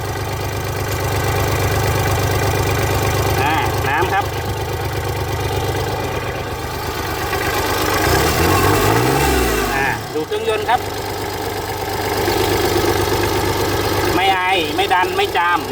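The diesel engine of a Kubota L3408 tractor idles close by with a loud, steady, knocking chug. Its pitch shifts briefly midway, and someone speaks over it.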